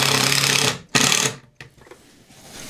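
Power drill fitted with an old, worn drill bit, running in a short loud burst, stopping, firing briefly again, then a quieter rattling tail as it spins down, close and without talk.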